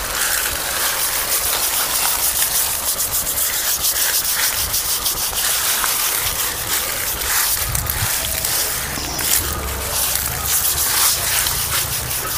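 A coconut husk brush scrubs the bark of a cut tree in rapid, rough, repeated rubbing strokes, close and fairly loud, continuing steadily throughout.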